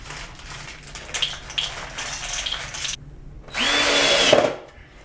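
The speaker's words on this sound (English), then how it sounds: "I'm going to insert the clamping collar and screw it down." A power drill screws down the clamping collar of a shower drain during a basement tub-to-shower conversion, with a steady run followed by a louder, higher-pitched burst near the end, close by and with no talking.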